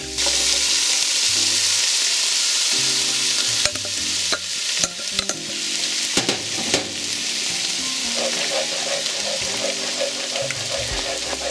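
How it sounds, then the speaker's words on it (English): Egg mixture is stirred and folded into pork fried rice and vegetables in a hot pan, with a loud steady sizzle and scraping, clattering strokes of the utensil over it, close and continuous. "We're going to put it in and mix it in with the vegetables and then fold the rice over top."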